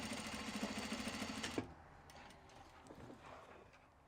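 Sewing machine stitching a small fabric traveler sling, a fast steady run of stitching for about a second and a half that stops sharply, followed by quiet handling clicks and rustles.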